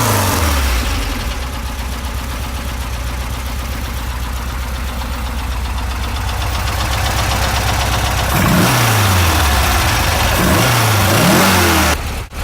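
A Porsche 914 with a 2356 stroker engine runs loud and close at a rough, lumpy idle, then blips the throttle in several revs toward the end, outdoors on a rainy day with no voices.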